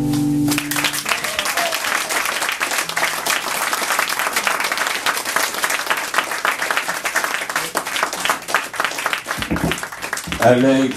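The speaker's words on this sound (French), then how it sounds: "Merci beaucoup Alex, applaudissez-le encore une fois s'il vous plaît" Sustained applause from a Christmas-special evening audience for performer Alex Morin, dense and steady clapping with crowd noise that fades toward the end, followed by a brief voice.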